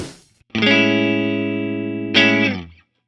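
A Fender Telecaster electric guitar rings out a sustained chord in a clean tone, followed by a second strummed chord that decays into silence.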